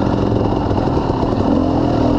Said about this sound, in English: Riding a big dual sport, 500 today.